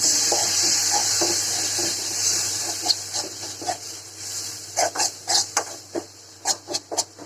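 Tomato chutney is stirred in a pan, a sizzle at first, then a quickening run of scraping strokes of the spoon against the pan, coming close and fairly loud toward the end.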